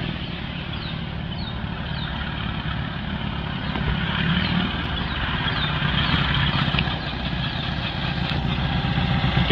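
A 1973 Dodge Dart engine holds a rough, steady idle, then picks up and swells louder as it is revved for the rest of the stretch.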